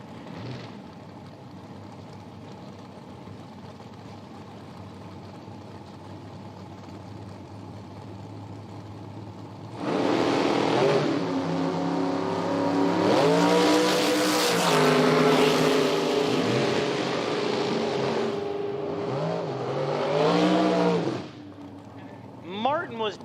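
Nitro dragsters, a 2008 American Dragster and the Diamond Dragster, launch at an IHRA Outlaw Nitro drag race, a loud roaring burst that swells for about ten seconds and then cuts off, with an announcer talking throughout.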